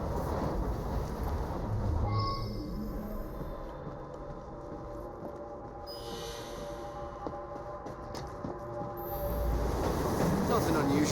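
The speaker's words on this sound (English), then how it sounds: "Oh, well, it's a noisy train." A noisy train in Assassin's Creed Syndicate rumbles continuously with clattering wheels and faint metallic squeals throughout, the loud rolling din swelling toward the end.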